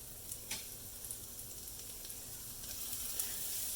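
Onions and peppers fry in a pan for scrambled eggs, giving a faint, continuous sizzling hiss with a few small crackles and pops throughout.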